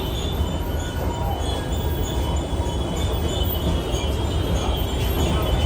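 Steady rumble and rattle of a moving train, continuous and fairly loud throughout, with no voices.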